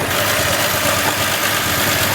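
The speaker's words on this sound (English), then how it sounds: "and it's idling. It's idling. It's actually idling. That's the 250 crossflow" An old 250 crossflow six-cylinder engine idles on its very first start, a rough, noisy rumble with steady broadband clatter running continuously at close range, with no talking.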